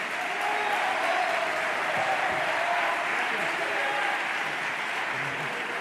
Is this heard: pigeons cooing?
no